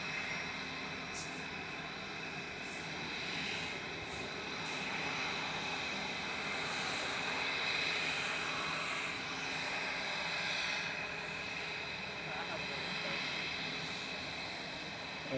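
Airliner engines at Manchester Airport make a steady, broad roar that swells gently and holds throughout, fairly distant and unbroken, with faint high clicks near the start and no clear talk.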